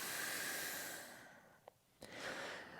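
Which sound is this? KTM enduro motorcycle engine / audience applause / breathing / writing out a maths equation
breathing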